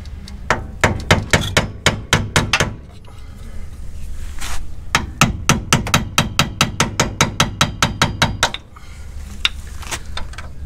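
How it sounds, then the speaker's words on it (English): Hammer striking a chisel to knock the old axle seal out of a Ford 8.8 rear axle on a Crown Victoria, sharp metallic blows in rapid bursts of about a dozen hits each, with brief pauses between series. "I finished chiseling that seal out."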